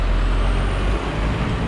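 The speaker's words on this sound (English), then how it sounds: "where this lorry's about to go, so excuse the noise." A lorry passes close by on a road near Peterborough, giving a loud, heavy low-end engine rumble and rush that holds steady for the whole short moment.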